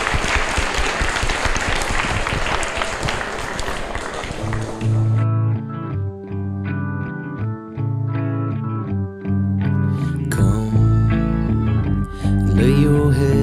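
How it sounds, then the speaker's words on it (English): A conference audience applauds a panel discussion on the New Hampshire job market at PorcFest, a dense burst of clapping for about five seconds before giving way to music. "let's give a round of applause for the panel"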